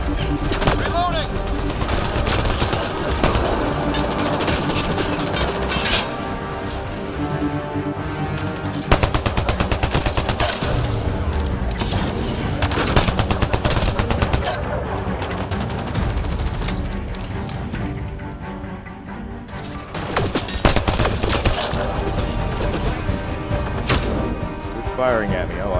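Rapid bursts of gunfire from the sci-fi shooter Mass Effect Andromeda, with dense repeated shots and booms in combat, loud throughout and overlapping with voices talking.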